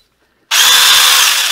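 An Eiruaw mini cordless 6-inch pruning chainsaw powered by a Makita battery starts abruptly after a short silence and runs at a loud, steady high-pitched whine close to the microphone.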